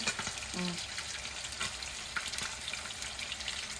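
Adobong paksiw frying in a pan as pepper is added, a steady soft sizzle with faint stirring and clinks throughout, heard alone without talk.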